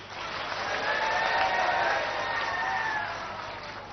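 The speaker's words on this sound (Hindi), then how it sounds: "जहां भी भक्त आई छन जोर से ताली बजाई कर स्वागत करूं" An audience at a world-peace Brahma yagna event applauds to welcome the chief minister, a soft, steady wash of many hands clapping at a distance that swells and fades.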